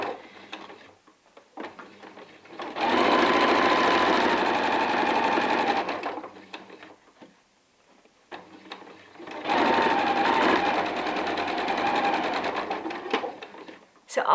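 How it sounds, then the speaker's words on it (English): Two long bursts of a domestic sewing machine stitching a quarter-inch seam along a pillowcase, each a steady whirring hum lasting several seconds. Quieter handling noises fill the pause between them. "we'll come back to the sewing machine one last time and sew a 1/4 inch seam allowance"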